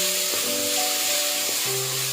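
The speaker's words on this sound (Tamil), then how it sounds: "இந்த மாதிரி தக்காளி ஃப்ரை ஆனதும் இது கூட காடையை ஆட் பண்ணிக்கிறோம்." Quail pieces frying with tomatoes in a pan give a steady, close sizzle and hiss, with a few brief clinks and tonal utensil sounds over the frying.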